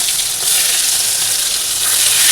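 Fish and sliced spiny gourd fry in a pan with a loud, continuous close-up sizzle and hiss, no voices.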